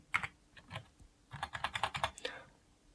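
A few keys are typed on an IdeaPad Pro 5i 16IRH laptop keyboard: quick close clicks, two lone taps and then a burst of about eight in a row.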